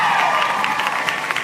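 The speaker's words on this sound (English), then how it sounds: "How about a big round of applause for Laurie Hernandez, ladies and gentlemen?" A welcoming crowd at a live interview event in Memphis claps and cheers loudly, a dense wash of applause that continues throughout.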